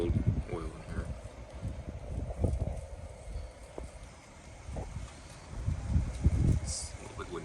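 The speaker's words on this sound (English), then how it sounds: "It's a little bit windy today." Outdoor wind gusts rumble against the microphone in uneven surges, rising and falling over several seconds with faint background noise.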